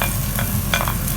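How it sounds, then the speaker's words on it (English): Garlic sautéing in about a teaspoon of oil over medium heat for Filipino bistek, a steady close sizzle with a few scraping stirs of a utensil in the pan. "Then saute garlic."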